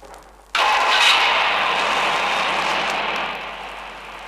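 A 1955 Chrysler engine with a PowerFlite transmission cranks and catches after a brief quiet moment, then holds a steady, loud fast idle with the choke open.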